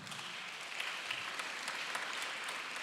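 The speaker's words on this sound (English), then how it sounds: "thank you for the applause" A faint, distant round of audience applause fills the room evenly with soft, dense clapping and no clear voices over it.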